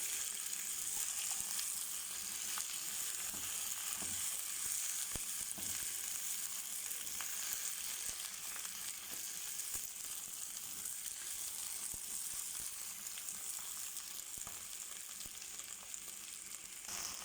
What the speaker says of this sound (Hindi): मतलब भिंडी फ्राई करनी है हमने इसको अच्छे से।